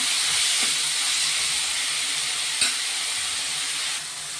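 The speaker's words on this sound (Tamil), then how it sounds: "தக்காளி போட்டுக்கலாம். இது நல்லா வதங்கட்டும்." Tomatoes with rock salt sauté in a hot pan in a steady, dense hiss of frying, close and even throughout, with one brief spoon tap partway through and no voices.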